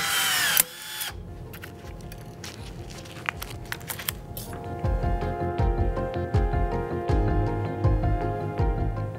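A battery-powered cable tie tool whirs as it tensions and cuts a tie, with a brief snap early on followed by several seconds of steady motorized buzzing with clicking, heard close and alone.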